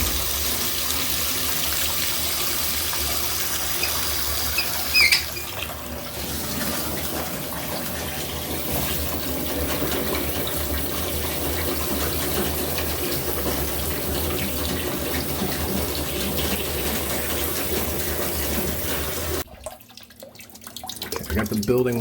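Water runs steadily from a leaking plumbing angle stop under a sink after the building supply has been shut off. It keeps up a continuous hissing gush, loud and close, until it drops away sharply near the end.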